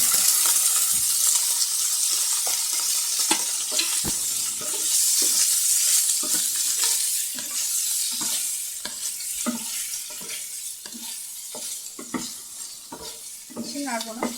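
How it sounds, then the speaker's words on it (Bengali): Paneer pieces are stirred in hot ghee in a pan, a soft sizzle running underneath close, irregular clinks and scrapes of a spatula against the metal, continuing steadily without talk. "এবার আমি পনিরগুলো একটু নেড়ে নেব।"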